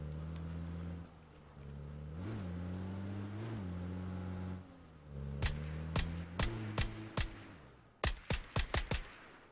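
A vehicle engine droning in the video game PUBG rises briefly as if boosted, then drops away while a rapid series of sharp gunshots cracks out in irregular bursts.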